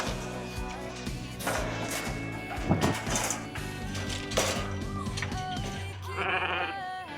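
Sheep bleat on a country farm on O'ahu, several wavering calls rising over a busy, mechanical-sounding background, fairly close, with no talking.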